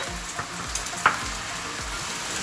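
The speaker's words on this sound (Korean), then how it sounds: "면수 꼭 넣어주세요. 2인분이니까 2국자 넣어볼게요." Pasta water ladled into a hot pan of cream-free carbonara, a loud steady sizzle close by, with a few brief spoon clinks and splashes near the start.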